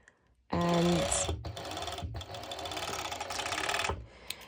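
Home sewing machine running a zigzag stitch on leggings fabric, a loud continuous rattling hum that starts abruptly, briefly pauses twice, then stops, close by with no talking.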